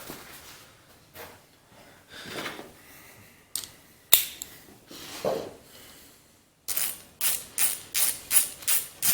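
A hand ratchet snugs down 7/16 bolts on a Clinton small engine being rebuilt, with scattered clicks and shuffling handling noises followed by a quick rhythmic run of sharp ratcheting strokes, close up and with no talk.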